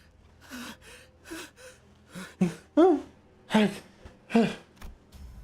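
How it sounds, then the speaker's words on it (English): A Limbus Company character gasps for air in a series of sharp, strained breaths and wheezy intakes, rising in loudness and urgency as the breaths come one after another. "Sinclair was gasping for air behind him"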